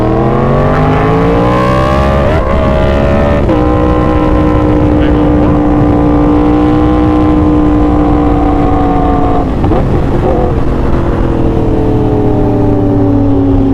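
A loud motorcycle with a new aftermarket exhaust roars and revs continuously, its deep exhaust note rising and falling in pitch, close by and dominating throughout.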